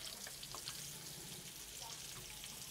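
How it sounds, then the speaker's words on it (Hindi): Potatoes and eggs fry in a pan with spices, giving a steady, soft sizzle that continues evenly throughout, heard close and fairly quiet. "चारों तरफ से अच्छा सा गोल्डन सा कलर आने तक हम इनको फ्राई कर लेंगे"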